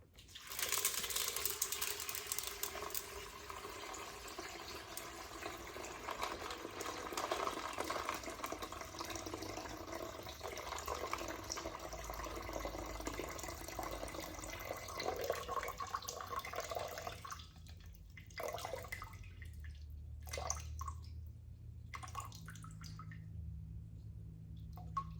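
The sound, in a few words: water being measured and poured for pizza dough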